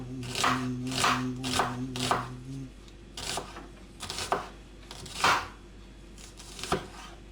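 A knife chops breakfast ingredients on a board in a series of crisp, irregular strikes, close by, with a brief steady tone sounding early on.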